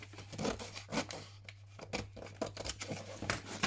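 Scissors cut paper corners for a junk journal, producing a series of close, soft snips and rustling paper rubs in an irregular rhythm, fairly quiet and without talk.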